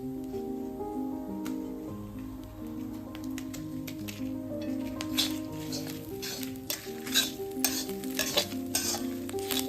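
Chillies fry and sizzle in a pan while being stirred for vada koottu curry, an Onam sadya dish, with steady hissing, scraping and clinking of a utensil, and a sustained musical tone running underneath.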